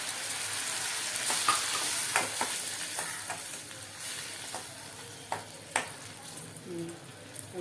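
Steady frying sizzle of ground tomato in a hot pan with occasional scraping and stirring clinks, close up and continuous throughout.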